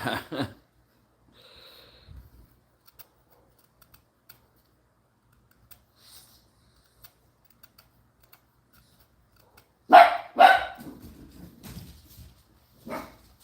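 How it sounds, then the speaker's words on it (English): A dog barks in a short burst at the start, then several sharp barks cluster together later, with faint scattered clicks and taps in the quiet between. "dogs get loud sometimes"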